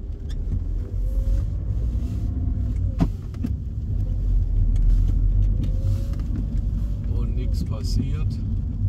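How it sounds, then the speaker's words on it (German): A car with a jerking-on-overrun fault drives around a corner, its engine a low, steady rumble close by with a few small clicks and knocks, while someone talks over it. "Und fahre um die Ecke."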